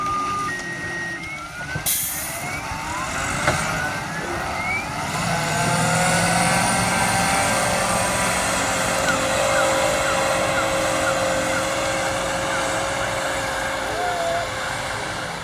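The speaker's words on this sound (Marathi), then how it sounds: "बघा रिवर्स आमचा ड्रायव्हर कसा रिवर्स घेत आहे" A loaded truck at an aloe vera field reverses with a steady engine drone, a beeping reverse alarm rising and falling over it, and faint voices in the background.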